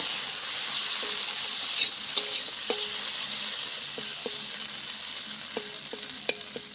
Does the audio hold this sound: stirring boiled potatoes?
yes